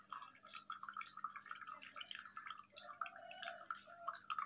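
Water being strained off a boiled herbal drink, with a steady trickle and irregular dripping and splashing close by, moderately quiet and with no voices.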